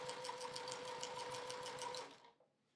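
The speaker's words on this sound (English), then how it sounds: "it allows me to sew" A domestic sewing machine stitches a quilt in a steady, rapid run of needle strokes, loud and close, stopping abruptly near the end and leaving near silence.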